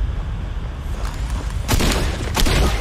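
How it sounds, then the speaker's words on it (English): Bursts of gunfire in the online battle game Fortnite, two short rapid clusters of loud cracks over steady game ambience, fairly close. "Can't shoot with an SMG that far."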